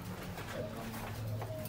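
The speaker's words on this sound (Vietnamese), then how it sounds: "Đây là chim bồ câu gà Mỹ nhá." American Giant Runt pigeons coo softly, low murmuring calls beneath a steady background hiss, faint and close together over a short span.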